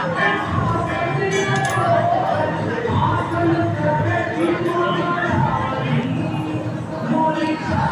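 A dense crowd of devotees at the Durga Kund temple in Varanasi, a continuous murmur of many voices with occasional metallic clinks, close and steady throughout.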